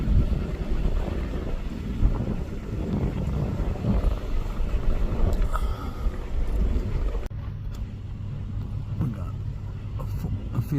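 Wind gusts across an outdoor field fire in South Central Florida, a steady broadband rushing roar with buffeting on the microphone, loud and continuous, easing slightly partway through.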